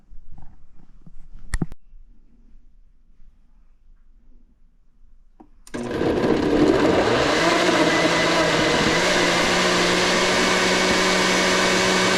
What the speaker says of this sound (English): we're going to blend this to a very smooth paste